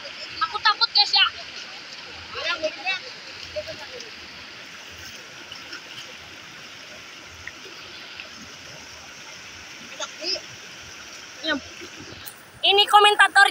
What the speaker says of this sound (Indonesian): Ini arusnya sangat deras sekali ya guys ya